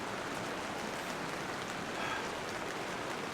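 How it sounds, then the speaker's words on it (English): Steady, even rain hissing and pattering continuously on an SUV tent while car camping, close by and moderately quiet, with no voices or other distinct sounds. "I've had this sound of the rain all the time I've been here"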